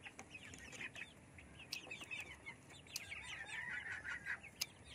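Chickens, some of them sick with colds, cluck busily inside a coop while waiting to be fed. Overlapping clucks and squawks come steadily and close, rising into a denser chorus toward the end, with no one speaking.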